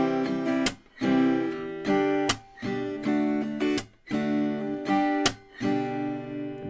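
Acoustic guitar playing an Afrobeat strumming pattern, with rhythmic down-strums broken by sharp percussive claps or slaps in a repeating cycle, close and clear with no voice.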